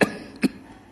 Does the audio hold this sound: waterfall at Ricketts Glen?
no